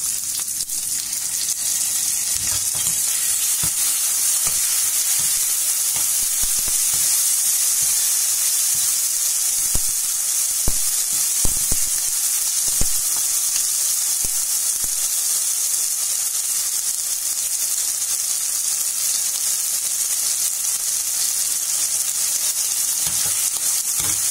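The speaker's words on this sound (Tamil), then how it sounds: "இப்ப நம்ம இஞ்சி பூண்டு பேஸ்ட் ஆட் பண்ணிக்கலாம்" Ginger garlic paste frying with softened onions in a pan for Chettinad chicken curry: a constant close sizzle and hiss of hot oil running throughout, with occasional soft stirring knocks, no voices.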